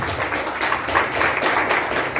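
Church congregation applauding in praise during a worship service, a steady, dense round of clapping sustained throughout with no voices over it.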